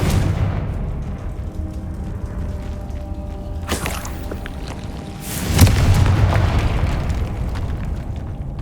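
Spell explosions from Confringo casting in the video game Hogwarts Legacy: a couple of sharp booming bursts over a steady rumble of game ambience and music, one near 4 seconds and a heavier blast around 5.5 seconds.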